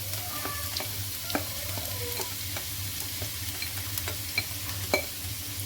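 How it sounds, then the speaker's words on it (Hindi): Onions fry in oil for okra masala, a constant close sizzle broken by clinks and scrapes of a stirring spoon against the pan, over a low steady hum. "और अब इस जो ऑयल है इसमें मैं प्याज ऐड कर दूंगी।"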